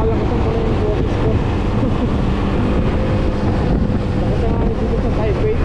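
Strong wind buffets the microphone outdoors in Taipei on the afternoon of a fireworks display, a loud, constant low roar and rumble with no pauses.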